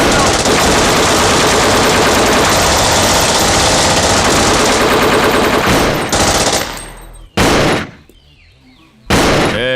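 Loud, rapid machine-gun bursts in an Indian action movie scene rattle without pause for several seconds and then break off into choppy bursts with brief silent gaps, all very close and harsh.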